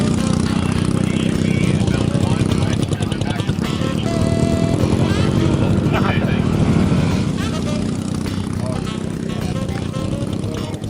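Motorcycle engines running on a salt flats speed course, a loud sustained buzzing drone with shifting pitch, heard beneath a narrating voice.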